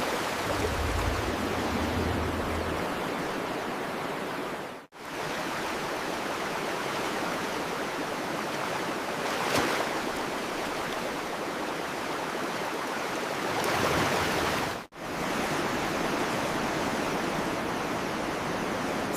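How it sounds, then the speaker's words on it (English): Freezing river rapids roar in a continuous, dense wash of rushing water as a large bear wades in, steady and loud throughout with two brief dropouts and no voices. "The massive bear steps into the freezing rapids."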